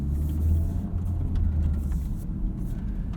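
A 2023 Honda Civic Type R or Hyundai Elantra N cruises on the road, a low, steady engine and road rumble heard from inside the cabin, with no talking.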